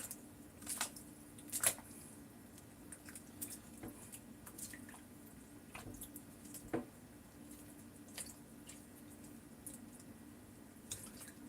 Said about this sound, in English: just gonna kind of work the butter around a little bit.